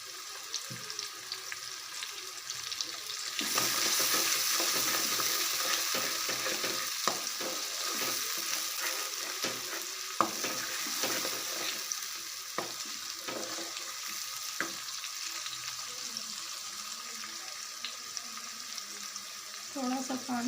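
Tomatoes fry and get stirred in a pan with ginger, garlic and green chili paste for dhaba-style chana dal, a steady close sizzle broken by repeated scraping spoon strokes throughout.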